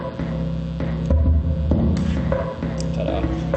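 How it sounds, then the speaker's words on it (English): A computer-synthesized drum sequencer pattern plays a steady, throbbing loop of low humming tones and pulses, fairly loud and close, with no voices. "Here's me making a drum sequencer."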